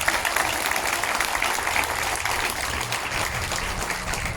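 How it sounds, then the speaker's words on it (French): A crowd at an outdoor motorcyclists' blessing event applauds continuously, a thick, even wash of many clapping hands at steady volume. "on les applaudit très très fort"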